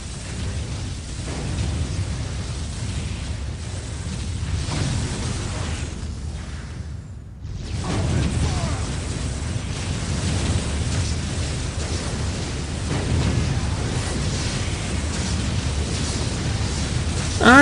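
Big guns fire and shells explode in a loud, continuous wash of rumbling blasts in the strategy game Dark Crusade, with a brief near-silent gap before the barrage resumes heavier.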